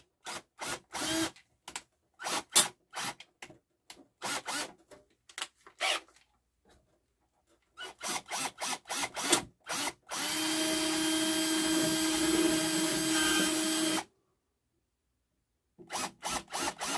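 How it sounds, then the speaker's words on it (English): An aging cordless battery drill works on a Technics turntable hinge tab (SL-Q2/SL-D2), heard as a series of short close bursts, then one sustained whine of about four seconds, then more brief bursts after a pause. "I had this drill for a long time and the battery's starting to lose its charge"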